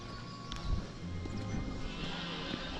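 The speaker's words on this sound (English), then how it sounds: "that's Carter and the horses." Horses at Guédelon Castle, a medieval building site, with hooves clopping on the ground amid busy outdoor background noise and a possible brief whinny, fairly close and alone without talk.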